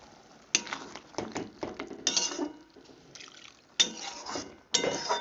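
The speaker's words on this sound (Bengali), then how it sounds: "এবার আমি ওর মধ্যে অল্প পরিমাণে জল দিয়ে দিলাম" Water is poured into a pot of cooking greens (radish, taro and spinach leaves), making splashing, gurgling pours in several bursts with clinks of the vessel, close and fairly loud with no talk.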